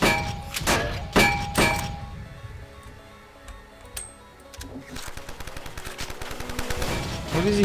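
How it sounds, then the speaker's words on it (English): Gunfire in the video game Cortex Command, several sharp loud shots early on, then quieter rapid bursts of firing and clanks, with a person speaking faintly. "What is he shooting at?"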